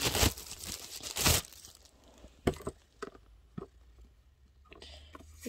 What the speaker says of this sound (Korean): 상자 치우고요. 비닐 치우고.